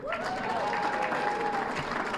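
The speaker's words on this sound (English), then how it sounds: "Murphy, a round of applause." Brief round of audience applause at an election night event, a steady wash of crowd clapping throughout, with faint voices underneath.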